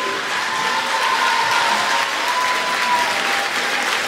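Dense, steady applause from an audience at a talk with a film director held at an art academy during a summer music festival, loud and continuous throughout with a faint sustained tone underneath.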